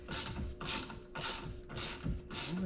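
Valve spring compressor being snugged down on a cylinder head, giving five evenly spaced bursts of close mechanical ratcheting and scraping about half a second apart, with no talking.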